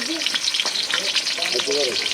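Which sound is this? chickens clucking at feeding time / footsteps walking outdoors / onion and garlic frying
onion and garlic frying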